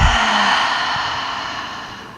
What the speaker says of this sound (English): Take a big breath in through your nose. Exhale out through the mouth.